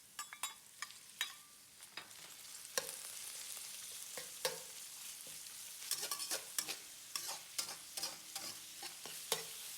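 Ground pork stir-frying in a wok with garlic, ginger and green onion whites for Ants Climbing a Tree noodles: a steady close sizzle with repeated sharp scrapes and clacks of a spatula stirring throughout.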